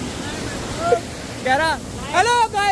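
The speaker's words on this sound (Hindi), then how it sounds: "अबे पानी का कितना शोर है, आवाज नहीं आ रही कुछ भी।" Steady roar of a waterfall's rushing water near Landour, Dehradun, fills the background while people talk loudly over it.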